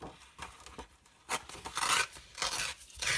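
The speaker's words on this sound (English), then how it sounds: "So we're going to tear our wedge out of this paper." A sheet of scrapbook paper torn by hand to pull out a wedge, heard as short rasping rips that grow longer and louder toward the end, close and alone.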